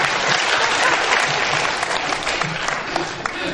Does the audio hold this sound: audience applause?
yes